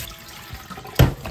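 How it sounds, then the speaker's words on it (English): Rice being washed in water for Japanese oyakodon, a short low-level swishing of water followed by one louder splash or pour near the end, close up with no talking. "Washing rice until the water is that clear and start cooking"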